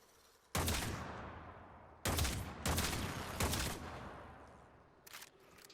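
Seer pistol in Warframe firing rounds that explode on impact against heavily armored Corrupted enemies: four loud, sharp blasts spaced a second or so apart, each with a long decaying tail, then a fainter fifth blast.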